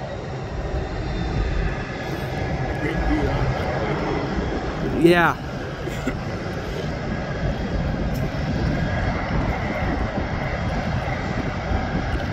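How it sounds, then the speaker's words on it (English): Firefighting plane engine droning steadily across the scene, a continuous rumbling roar with a brief sharper swell near the middle as it passes, while a person speaks a word over it. "I think this is a fire plane."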